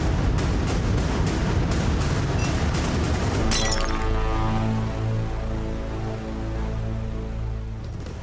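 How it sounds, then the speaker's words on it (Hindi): Glass breaking in an indoor scene of a Hindi television drama: a dense, crashing shatter fills the first few seconds, then gives way to a sustained dramatic musical score. "पिंकू जी, इतनी गहरी नींद की इनको ये ग्लास टूटने की भी आवाज नहीं आई।"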